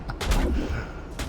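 A cannon fires in a shooter video game, one loud, booming blast with a rumbling tail, close and alone.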